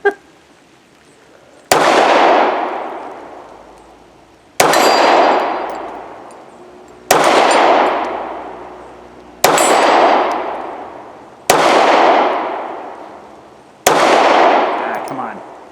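Six sharp pistol shots from a Palmetto State Armory Dagger, each followed by a ringing clang of a round striking a steel plate target, spaced roughly two seconds apart and loud, close and outdoors, with a long metallic decay after each hit.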